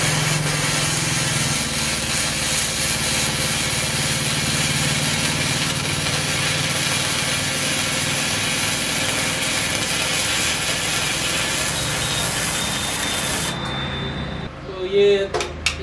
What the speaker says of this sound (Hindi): अब मैं इसको पूरा वेल्ड करके भर लेता हूँ